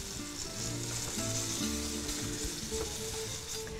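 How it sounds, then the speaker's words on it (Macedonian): Chopped leeks fry in a pan, giving a steady, dense sizzle with faint stirring, close and continuous throughout with no talking. "Многу треба време да се пржи прасот?"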